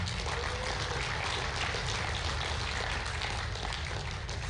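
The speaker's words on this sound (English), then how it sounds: "And give these boys one more round of applause" A powerlifting nationals audience claps for the lifters, a continuous, even wash of many hands applauding at moderate loudness with no pauses or talk over it.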